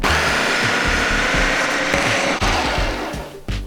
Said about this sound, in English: Mix it in the blender until everything's combined and the butter is a little bit creamy.